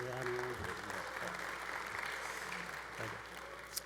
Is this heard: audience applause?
yes